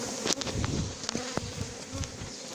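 A swarm of honey bees being gathered hums in a dense, close buzz, with individual bees zipping past the microphone in brief sharper whines.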